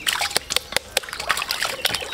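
Vegetables rinsed under running water, with a steady trickle broken by repeated close splashes and sloshes through the short stretch.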